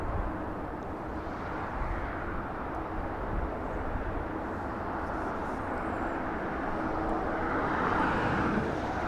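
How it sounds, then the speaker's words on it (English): An Alaska Airlines Boeing 737-900 departs runway 25 right at Los Angeles International Airport, a steady, fairly distant broadband jet roar that holds throughout and builds slightly toward the end. "Alaska 1147, a 737-900. Using runway 25 right for departure."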